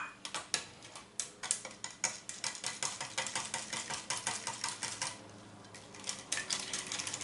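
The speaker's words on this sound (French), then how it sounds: "On mélange bien le tout pour faire diluer donc la levure fraîche." Fresh yeast crumbled into brioche vendéenne dough is stirred in a bowl, giving a steady run of quick, close clinks and ticks from the utensil against the bowl, with no voices.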